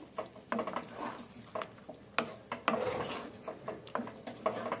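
Spoon stirring fish and prawns into a thick chili mixture in a pan, giving repeated scraping and clinking strokes in an uneven rhythm, close and moderately loud, with no talking.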